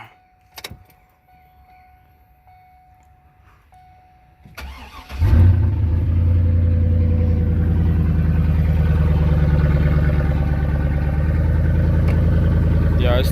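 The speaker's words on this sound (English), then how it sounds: "This is gonna be the first crank up." A car with a reduced-engine-power fault cranks briefly after a few seconds of near silence, then catches and settles into a loud, steady running drone that continues to the end.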